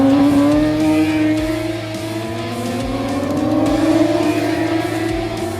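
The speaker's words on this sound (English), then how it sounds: "28 identical Kawasaki ZX10 machines on the grid, all fitted with identical Bridgestone R11 tires" A pack of identical Kawasaki ZX10 race motorcycles on Bridgestone R11 tires howls past at Kyalami during Masters Cup qualifying, loud layered engine notes rising and sweeping continuously with no voices.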